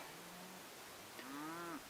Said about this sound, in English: cow noise